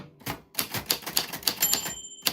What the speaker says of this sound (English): that was the typewriter ding